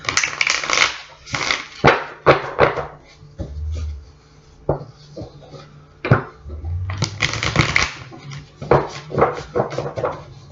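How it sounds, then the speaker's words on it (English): Tarot cards are shuffled and flipped out onto a surface in quick bursts of close, crisp slaps and riffles, separated by quieter pauses, with occasional low knocks in between. "I'm going to call these cards out as I'm flipping them out"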